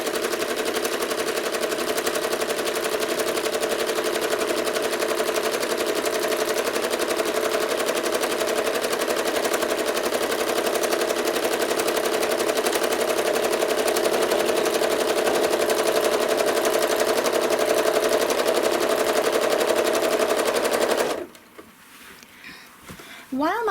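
Sewing machine stitching curved seams on a fabric egg-shaped appliqué pattern: a long, steady, rapid whirring hum close by that cuts off near the end.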